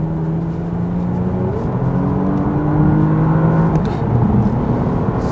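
A Porsche Panamera Platinum Edition drives in sport mode, its engine note climbing and shifting through gears in a loud, steady drone heard from inside the cabin.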